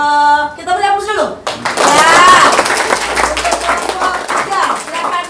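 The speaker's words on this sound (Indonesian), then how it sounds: "kita beri aplaus dulu." A burst of hand clapping and applause from a group, probably a class or audience at a presentation, rises suddenly after a brief tone and continues densely for several seconds, with voices mixed in.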